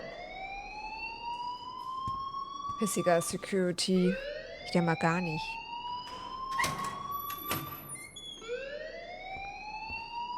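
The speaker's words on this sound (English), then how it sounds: "please turn off that alarm since that's your job" Alarm ringing in Life is Strange, sweeping rising tones repeating steadily over about ten seconds while someone speaks over it in bursts.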